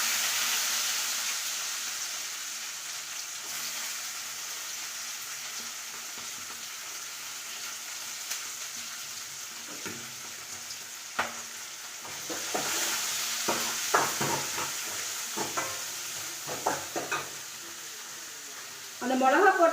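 Dried red chillies and shallots frying in hot oil, a steady close sizzle that grows busier and crackles toward the end, with occasional stirring clatter and faint voices underneath.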